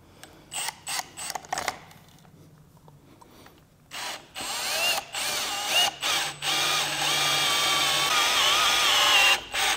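Power drill boring a hole in a 4B11T cylinder head to repair stripped stud threads, starting with short stop-start bursts and then running long and loud with a high metallic whine.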